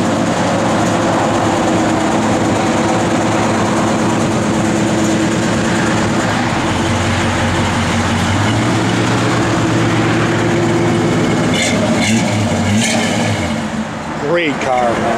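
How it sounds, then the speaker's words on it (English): Engine and exhaust of a 1967 Chevrolet Impala SS running on a cold day, a steady, loud, low rumble that persists throughout, with someone talking over it. "You're gonna get that exhaust."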